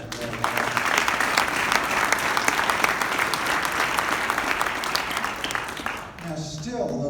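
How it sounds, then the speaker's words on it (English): Dense, sustained applause from a large audience at a white coat ceremony, loud and steady throughout before fading near the end. "Let's have some applause for that."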